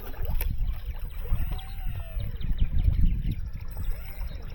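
An E-flite UMX Turbo Timber RC floatplane taxis across bay water, its small electric motor whining as the pitch rises and falls in sweeping arcs, steady and close over wind and splashing.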